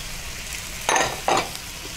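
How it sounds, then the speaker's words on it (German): Bacon and sausage frying in a pan for Tyrolean bacon dumplings, with a steady close sizzle broken by two louder bursts as the pieces are stirred and scraped. "Wichtig ist, dass der Speck angeröstet ist, dass die Wurst ein bisschen angeröstet ist"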